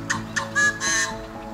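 Yellow-headed blackbirds call in a short burst of harsh, rasping notes, three or four buzzy squawks in quick succession against steady background noise.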